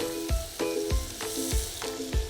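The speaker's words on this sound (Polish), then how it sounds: "Jak widać, marchewki ładnie się grillują, zostawiając ładne ślady i dodatkowy smak." Carrots grilling on a grill pan give a close, continuous frying hiss, marked by regular soft thumps and scrapes roughly every third of a second, with no voices.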